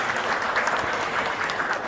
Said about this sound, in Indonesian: Tepuk tangan untuk ayahanda kami.